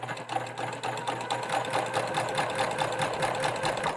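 A sewing machine runs at a steady speed with a dense rapid whirring and clatter that sounds a little off and faulty, continuous and fairly close throughout.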